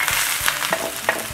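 Cluster beans tossed into a hot pan and fried, a steady close sizzle broken by several short scraping stirs and clatters of the vegetable landing.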